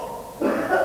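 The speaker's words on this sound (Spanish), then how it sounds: "Tos," A single short, close cough with a rough throat-clearing quality, loud and alone, in a comedy scene.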